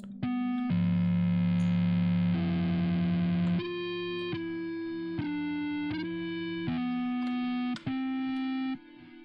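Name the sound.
bass guitar through an amp emulator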